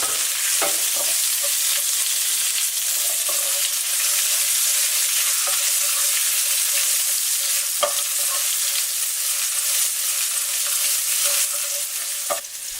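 Dried chilies frying in a hot pan for General Tso chicken, a steady bright sizzle punctuated by scraping stirs and clacks of the utensil at irregular intervals throughout.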